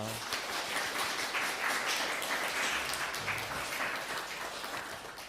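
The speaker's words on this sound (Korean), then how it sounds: "우리 옆에 있는 분들 박수로 환영하겠습니다" At a Korean church service in Darmstadt, the congregation claps to welcome the people seated beside them. The dense, continuous clapping stays fairly loud throughout, and murmured voices are mixed in.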